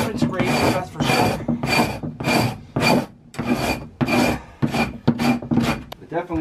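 A frozen beaver pelt being frost-scraped with a hand scraper: steady, loud rasping strokes about twice a second, each a harsh broadband scrape, continuing without pause through the whole stretch.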